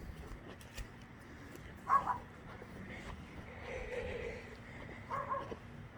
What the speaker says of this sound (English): Oh, there's that yapping dog again.